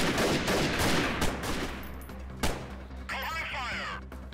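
Single shots ring out in a guerrilla-warfare video game: a burst of sharp reports early on, then a lone loud crack midway, with game sound effects trailing after.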